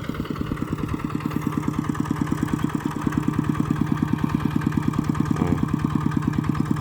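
A motorcycle engine labours in first gear on an uphill track, a loud, even rapid thumping pulse that holds steady throughout with a slight shift partway, no talking.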